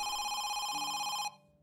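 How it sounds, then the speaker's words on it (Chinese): A telephone rings in a horror game set in a house, one loud sustained electronic ring that cuts off abruptly, followed by quiet. "然后电话响了"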